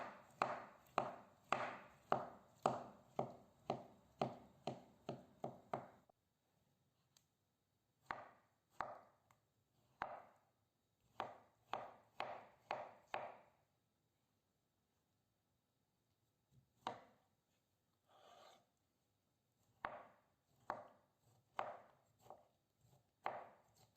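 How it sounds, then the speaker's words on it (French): A knife cuts cooked, cooled beetroot into small cubes on a board, giving quick rhythmic bursts of close, crisp chopping strokes separated by short pauses. "je vais couper la betterave, bien sûr cuite, en petits cubes"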